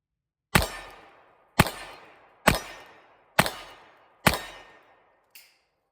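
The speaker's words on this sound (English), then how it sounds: "Here are them pieces hitting on my scrap tin around." Five sharp revolver shots from a Ruger Blackhawk .45 Colt ring out at a steady, evenly spaced rhythm, each with a loud crack and a short decaying tail, followed by a faint metallic tick of fragments striking a scrap tin.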